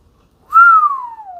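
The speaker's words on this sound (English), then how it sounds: "Whistled Diggory." A single clear human whistle rises sharply, then glides slowly downward in pitch, close and loud against silence.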